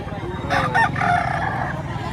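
A gray rooster crows once, loud and close, at a chicken market in Batangas, over a steady low background murmur of other noise.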